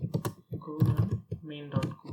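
Keys tapped on a computer keyboard while entering a command in a terminal for a Go programming setup, short clicky bursts mixed in with ongoing speech.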